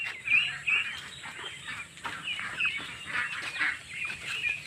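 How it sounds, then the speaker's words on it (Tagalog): Several chickens cluck and squawk in bursts, some close and some farther off, with no talking. "Daming manok."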